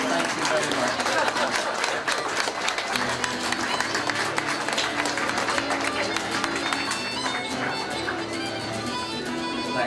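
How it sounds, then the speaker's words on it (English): An audience at a Scot of the Year 2008 event gives a sustained round of applause, dense and continuous for the whole stretch, with talk partly under it. "if we could maybe give a round of applause and say thank you very much"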